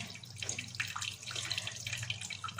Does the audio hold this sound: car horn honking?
no